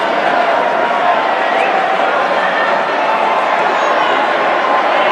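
Football supporters at a Worcester City v Whitchurch Alport match, with the travelling City contingent applauding and cheering a substitution: a loud, dense and steady wash of clapping and crowd noise that carries on unbroken throughout.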